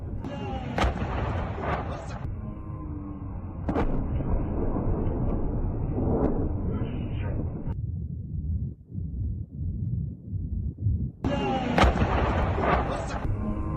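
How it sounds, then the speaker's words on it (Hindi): Explosions from a HIMARS strike on a Russian army facility come as heavy booming blasts and rumbling over continuous noisy news-footage background, with talk present and abrupt shifts in the sound. "यूक्रेनी सेना क्या हाइमार्स से भीषण हमला, ये देखिए जरा"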